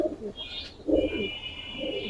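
Giribaz tournament pigeons coo softly in a loft, with several low throaty coos over a steady background hiss.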